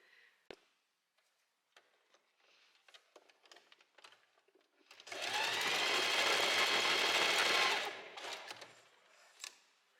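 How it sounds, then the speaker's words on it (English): After a few scattered clicks and taps, a sewing machine stitches an elastic casing closed on a bedsheet garment, a close, fast steady whir lasting about three seconds before it stops, followed by more light handling sounds. "now I'm gonna sew this closed here too"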